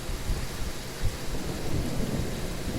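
Thunder rumbling under steady heavy rain in the video game Genshin Impact, a loud continuous deep roll with rainfall hiss throughout and no voices.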